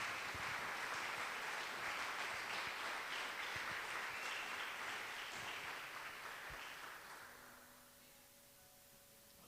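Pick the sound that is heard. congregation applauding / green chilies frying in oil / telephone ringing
congregation applauding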